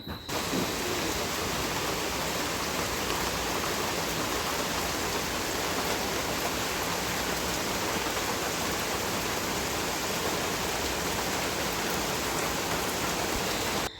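Steady rain falls over a village yard, a dense, even hiss that holds unbroken from start to end with no voices.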